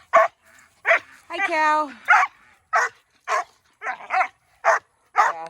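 A puppy on a farm barks in a rapid series of sharp, loud, close yaps with a brief whining yelp among them, while a person speaks a short greeting.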